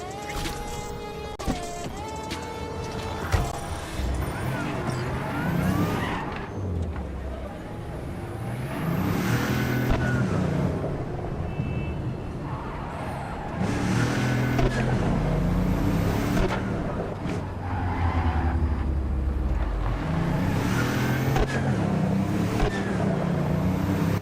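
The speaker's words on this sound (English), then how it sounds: "Love the unadulterated sound of this car every once in a while" Car engine in The Legend of Heroes: Trails Through Daybreak, steady revving and accelerating with shifting pitch under game music and effects, a continuous loud drone throughout.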